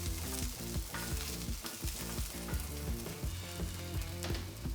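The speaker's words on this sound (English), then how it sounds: "you just kind of want it to sizzle a little bit and flavor the oil" Garlic sizzles and crackles steadily in oil in a pan, with repeated scraping or stirring strokes over the hiss.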